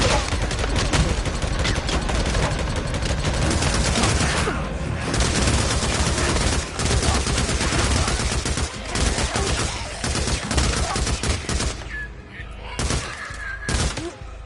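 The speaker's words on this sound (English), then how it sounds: "I'm just going to hit them with the MG55" Sustained MG55 machine-gun fire in the Days Gone game, a dense rapid rattle of shots layered with booms and impacts during a horde fight, loud and continuous throughout with a voice mixed in.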